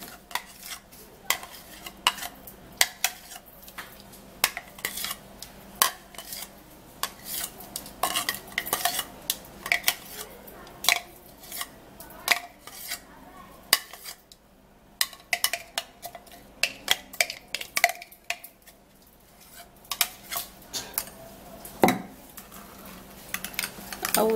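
A single mashed banana being mixed in a bowl, with a utensil scraping and clinking against the sides in a steady, busy rhythm of close, sharp taps throughout.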